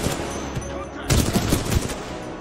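Supporting gunfire in the video game Titanfall 2, with a dense, continuous barrage of shots that grows louder and heavier halfway through, broken by bursts and impacts, and a faint voice under the din.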